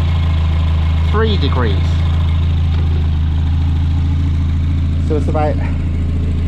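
A Volvo 940 Turbo fitted with a GT30 turbo and external wastegate idles with ignition timing retarded, a loud steady low rumble running throughout while someone talks over it.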